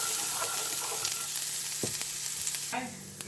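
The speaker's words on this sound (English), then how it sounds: "So we're just going to let that saute for a couple minutes." Finely chopped pieces sauté in a pan for gravy, a steady quiet frying hiss with occasional scraping and tapping of a utensil, more clatter near the end, no voices.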